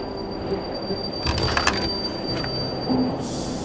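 A train in the World War II survival game Torn Away, a low rolling rumble with a few sharp metallic clanks and a brief squeal near the middle, over steady background ambience and a faint musical tone.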